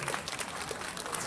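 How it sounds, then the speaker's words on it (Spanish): Brief, fairly faint applause for telebachillerato students at a Mexican independence celebration, a dense patter of clapping from a crowd with no talk over it. "Se oiga fuerte ese aplauso para los alumnos del telebachillerato."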